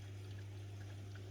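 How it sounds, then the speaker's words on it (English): An Electrolux ESF5206LIW dishwasher runs mid-cycle, its spray arms turning and throwing water around inside. A steady low hum sits under a continuous soft splashing wash, with no voices. "Now it's probably rotating those two arms and splashing the water in all directions."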